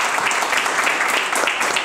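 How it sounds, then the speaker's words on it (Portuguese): Audience applause for pedagogy students at a Jacareí municipal chamber session, a dense, steady clapping that fills the room for the whole moment with no talk over it. "Mais uma vez, aplausos para vocês."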